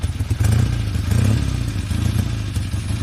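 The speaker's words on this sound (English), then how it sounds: "It's a motorcycle and it's a vehicle." A motorcycle engine idles and revs nearby, a loud, steady low throbbing putter with pulsing swells throughout.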